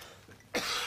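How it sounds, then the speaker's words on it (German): A single short cough bursts out close up after a moment of quiet, a dry throaty hack in a room where someone is wearing a Krampus devil costume borrowed from a theater. "Ich habe einen solchen Hustenreiz."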